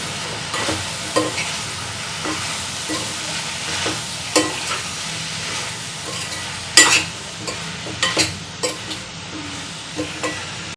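A spoon stirs a bitter gourd curry in a hot pan after salt goes in, the steady sizzle of frying under scattered scraping clinks of the utensil against the pan.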